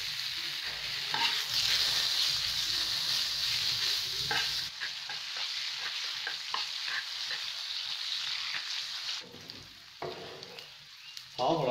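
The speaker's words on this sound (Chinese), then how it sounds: "先炒腊肉" Cured pork (larou) is stir-fried in a wok with a loud, continuous sizzle and repeated scraping strokes of the spatula, which ease off after the first few seconds and then pick up again.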